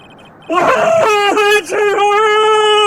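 A character in an Ace Attorney video game lets out a loud, sustained, wavering scream that cracks briefly before carrying on, starting abruptly after a quiet moment.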